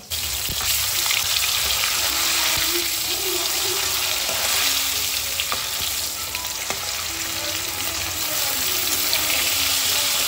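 Fish pieces frying in hot oil, three at a time, giving a loud, close, unbroken hiss and crackle that holds steady throughout with faint clinks, no speech.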